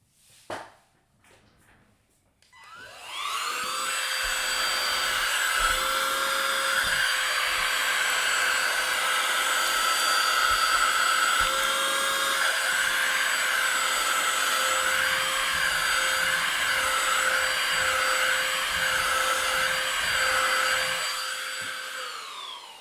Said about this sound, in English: get Mr. Vacuum Cleaner out